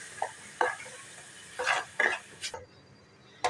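Semolina being stirred with milk in a pan for rava coconut modak, a few soft scraping spoon strokes over a low bubbling sizzle, quiet and close, ending abruptly.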